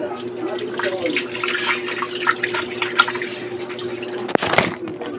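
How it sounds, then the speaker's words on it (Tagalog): Raw chicken is washed under running tap water in a kitchen: a steady splashing stream with sharper spatters and a brief louder gush near the end. "etong ating chicken, no, huhugasan muna natin"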